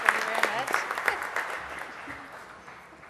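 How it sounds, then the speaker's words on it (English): Applause from an audience at a neighborhood partnership annual dinner, clearly separate claps at first that thin out and fade over a few seconds, with some voices mixed in. "please give Holly a round of applause for the awesome job she does"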